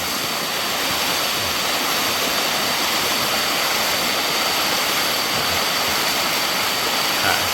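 Rainy-season waterfall roaring steadily, a dense broadband rush of falling water, loud and unbroken with no voices.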